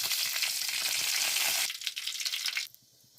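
Hot oil sizzles loudly in a pan with mustard seeds and cumin, a dense crackling hiss that drops off sharply near the end, followed by a brief quieter moment.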